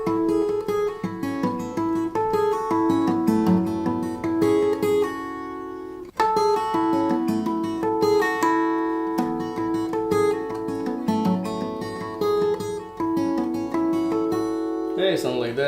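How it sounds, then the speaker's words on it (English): Guitar harp harmonics ring out in a cascading waterfall effect, rapid bell-like plucked notes overlapping into shimmering arpeggios, played close and continuously with a brief pause midway and no talk. "Artificial harmonics, the Cascading Waterfall effect, or Harp Harmonics, sounds something like this."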